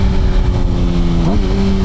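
A Suzuki GSXR 750 motorcycle fitted with a 16-tooth sprocket is ridden at wide open throttle, its engine a loud, close, buzzing drone that dips briefly and then climbs in pitch.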